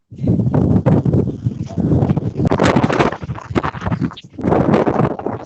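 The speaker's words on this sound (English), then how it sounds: "Oh, it's very windy." Gusts of wind in Argentina roar against the microphone in loud bursts, pausing briefly between them.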